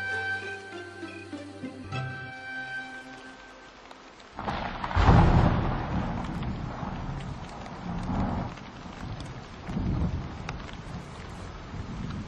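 Heavy rain falls during a thunderstorm in Africa: a loud, rumbling burst of thunder breaks in after a short stretch of music, followed by a steady, close downpour.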